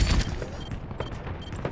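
Gunfire crackles in an Overwatch match: quick, evenly spaced bursts of shots repeat several times, close and fairly loud, over a busy backdrop of game action.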